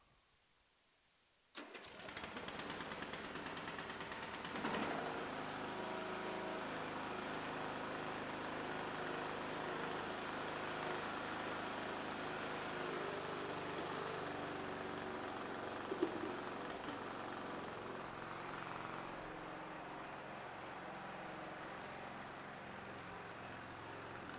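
A John Deere Sabre lawn tractor engine cranks and catches abruptly, then settles into a steady, fairly quiet running drone, with one brief bump partway through and no talk.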